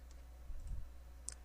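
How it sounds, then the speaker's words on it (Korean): A single sharp computer mouse click on a save button in a workforce management program, faint and brief against a low steady hum. "또 다른 방법으로는 화면 하단에 위치한 저장 버튼을 클릭하셔서 저장할 수 있습니다."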